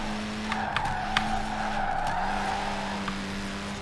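A 1300hp Ford M-Sport car in Forza Horizon 4 runs with a steady, loud engine tone and squealing tire skids, heard alone and close.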